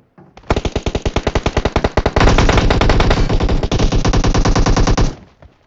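Automatic gunfire in a battle royale shooter game: a fast, loud burst of rapid shots that quickens into a dense, sustained roar for about five seconds, heard alone.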